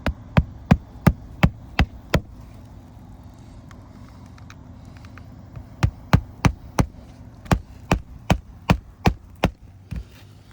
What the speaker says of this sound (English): he's nailing just above the tar line